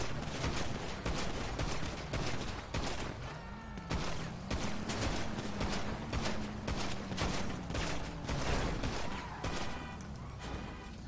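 Rapid bursts of video game gunfire crackle repeatedly in a gang shootout, dense overlapping shots with mechanical clicks layered over a low droning background throughout.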